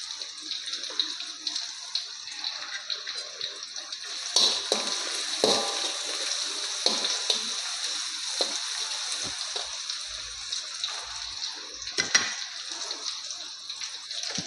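Ripe red chilies frying in a pan of oil for an egg masala fry, a steady close hiss with faint crackles and a few sharper stirring clatters along the way; nobody speaks.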